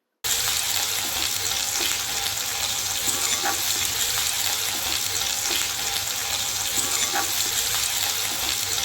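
Onions sautéing in a pan with cumin and mustard seeds give off a steady, even hiss that runs unbroken throughout, with no one talking.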